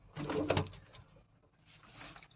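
A soft, low cooing from pigeons close by, a burst early on and another fainter coo at the end, with no talking.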